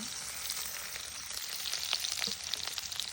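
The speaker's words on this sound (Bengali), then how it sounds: "এখানে হচ্ছে পেঁয়াজ কুচি দিলাম, কাঁচামরিচ কুচি" Chopped onion and green chili sizzle in hot oil in a wok, a steady close crackle and hiss with occasional sharper pops and a little stirring.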